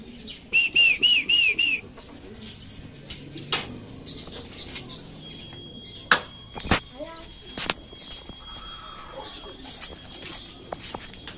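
Taiwan Gold pigeons take off in a quick burst of loud wing flaps, followed by scattered softer flutters and clatter, with people talking in Filipino throughout.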